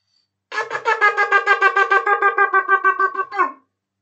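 A rapid run of short, staccato shofar blasts, the teruah, about sixteen quick pulses in one continuous loud burst, ending with a brief falling note.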